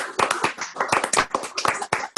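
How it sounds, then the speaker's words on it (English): Applause from a group of people on a video call for cricketer Graham Gooch: dense, close, uneven clapping from several sources at once, loud and steady for about two seconds with no talk over it. "If you'd like to give Graham a round of applause"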